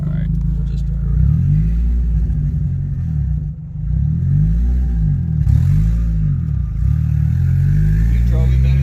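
A boosted Honda Civic EG drives around, its engine droning loud and low and rising and falling through repeated revs and gear changes, with people talking inside the car.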